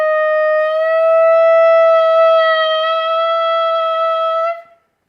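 Clarinet played in the style of the Rhapsody in Blue opening glissando, a single bright reed tone that swells in slightly at the start, then holds steady and loud for about four seconds before cutting off, with no voices.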